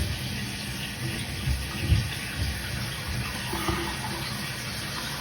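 Water rushes steadily into a toilet tank after the supply valve is reopened following a fill valve replacement, a continuous close hiss and gurgle of filling with no voices.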